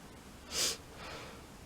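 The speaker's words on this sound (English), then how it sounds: "I'm about to sneeze." A single quick, breathy sneeze burst, close and moderately loud, followed by soft breathing noise.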